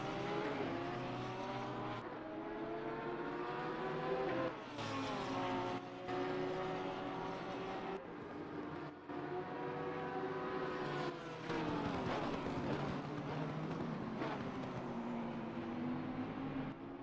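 Porsche and Lamborghini race cars battling in a racing video game at Laguna Seca, engines whining and shifting pitch continuously for the whole stretch, loud and sustained with gear-change dips.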